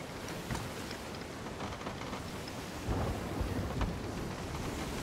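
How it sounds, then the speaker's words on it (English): A storm in the Sea of Thieves video game, with steady rain hiss and rolling thunder that swells into a deeper rumble partway through. "Luckily, I think we're getting through the storm."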